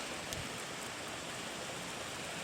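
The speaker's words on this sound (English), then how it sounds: "And there's a rain on it." Steady rain during a severe thunderstorm, a dense, even hiss of drops striking surfaces, fairly quiet and continuous with no thunder or voices.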